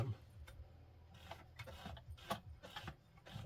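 A Penncrest 3400 sewing machine stitches a bar tack in a few quiet, close mechanical ticks and clacks, spaced unevenly over a few seconds.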